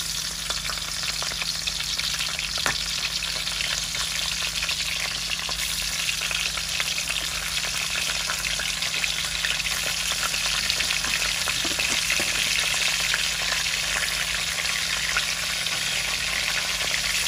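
Hilsa fish fries in hot oil in a pan, giving a steady, loud, continuous sizzle and crackle throughout with occasional sharper pops and a constant low hum underneath.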